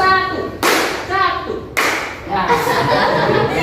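Schoolchildren in a classroom join a teacher-led group clapping game, sharp unison claps landing in bursts, with voices talking and calling out between and over the claps.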